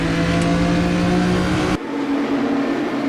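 A BMW M1 Procar engine in the RaceRoom racing game at Interlagos revs hard under throttle, then the note drops abruptly as revs fall and picks back up, loud and continuous with no voices.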